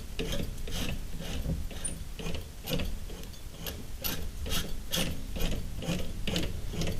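Milling machine dividing head being cranked by hand under light pressure, giving a steady run of rapid mechanical ticks and ratcheting clicks with gear whir, close and continuous for several seconds.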